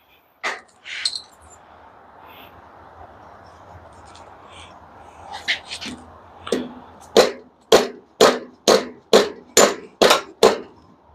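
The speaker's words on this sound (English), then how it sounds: "So you can hammer some common nails with these." A hammer strikes galvanized common nails with sharp metallic taps, a few scattered hits at first, then a rapid regular series of about ten loud blows.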